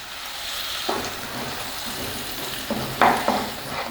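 Onion paste for chilli chicken sautés in a restaurant pan, a moderate sizzle and frying hiss with a few scraping stir strokes close by.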